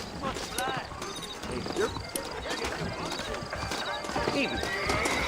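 Horses in Red Dead Redemption whinny and clip-clop along in a busy in-game scene, hooves clattering under neighs, with other game noise and voices talking over them.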